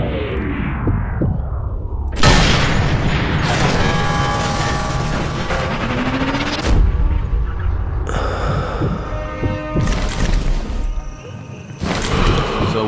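Sniper rifle gunfire in the video game Sniper Elite 3: several loud, booming shots with sharp onsets, spaced a few seconds apart over rumbling game ambience and mechanical clatter.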